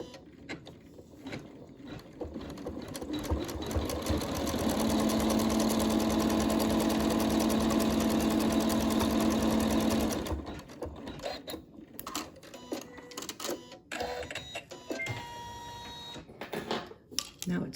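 An embroidery sewing machine stitches the seam of a pincushion, building into a steady, close mechanical whir that runs for several seconds and then breaks into irregular clicks and taps, with someone talking at times.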